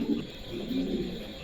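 A large five-kilogram pigeon gives a short, soft, low coo, faint and alone, lasting barely a moment.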